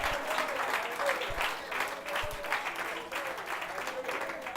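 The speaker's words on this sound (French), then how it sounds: "Give the Lord a big clapping hand." Church congregation at a worship service clapping hands for the Lord, a dense, steady round of applause from many people, close and continuous for the whole stretch.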